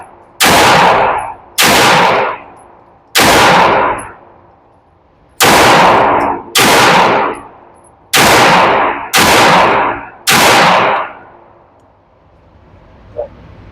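A Canik SFX Rival S pistol fitted with LOK grips fires eight loud sharp shots outdoors, in quick pairs and singles, each with a brief ringing decay.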